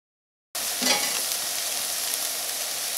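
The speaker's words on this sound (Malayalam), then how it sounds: "അപ്പോൾ സവോളയ്ക്ക് നന്നായിട്ട് വഴന്നിട്ടുണ്ട്." Onions sautéing in a pan for samosa filling, a bright, close, continuous sizzle with a bit of stirring that begins abruptly after a moment of silence and holds steady without any talking.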